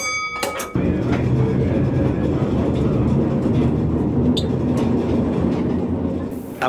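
A vintage streetcar rolls onto the grounds of a tram museum in Hannover, a steady loud rumble of wheels on track with clattering over the rails, preceded by a brief whine and knock and partly overlaid by talk.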